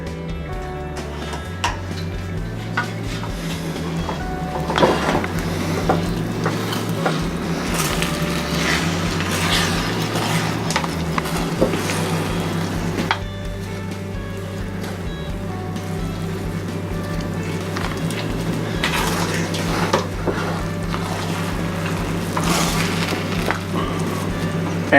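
Paella rice with sauce and scallops is worked in a pan, with repeated metallic scrapes and clanks of a utensil against the pan over a low steady hum, close and moderately loud, with no voices.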